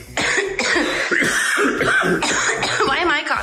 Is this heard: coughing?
yes